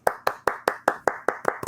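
Nine sharp, evenly spaced claps ring out close and loud, like a short burst of applause from a small group or a single pair of hands, with no voices over them.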